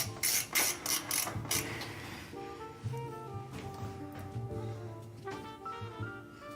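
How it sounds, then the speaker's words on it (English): Screws go back into a PC case, a Hyte H9 Flow build. A quick burst of ratcheting clicks from a screwdriver is followed by small metallic clinks and handling noises, close and quiet. "I'm just going to put these screws back so I don't forget them."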